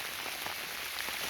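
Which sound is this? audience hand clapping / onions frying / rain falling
rain falling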